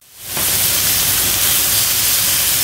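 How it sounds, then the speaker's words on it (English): Beef pieces browning in a very hot pan for a Tex-Mex carne guisada stew, a loud steady sizzle and hiss that swells up within the first half second and then holds constant, with no talking. "let me brown this meat up"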